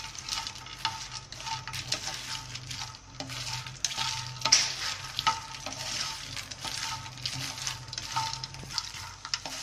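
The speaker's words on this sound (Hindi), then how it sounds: "अब इसके अंदर हम ये मखाने डाल रहे हैं।" Fox nuts (makhana) frying and being stirred in a pan with melted fat, a steady close sizzle with scraping stirs and occasional light clinks, no talking.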